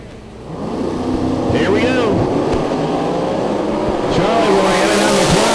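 A big tire class drag racing car makes a pass at Cecil County Dragway, its loud, raw engine roar building and holding as it blasts down the strip, with an announcer talking over it.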